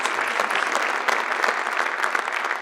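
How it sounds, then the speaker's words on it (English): An audience at a school board spring conference in a high school applauds a Teacher of the Year nominee, steady dense clapping from a full room that holds even throughout the short burst, with no voices over it. "let's have a round of applause for Lori,"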